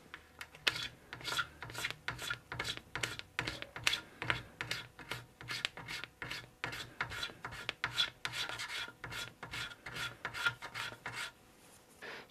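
Wood filler is leveled on mid-century teak furniture with steady, rhythmic rasping strokes, a quick regular scraping repeated many times at close range, no voices.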